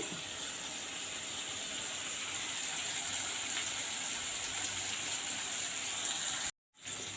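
Tomato, dried chilli and onion for a tamarind curry sauté in a pan with a soft, even sizzling hiss that runs unbroken, then cuts out briefly near the end.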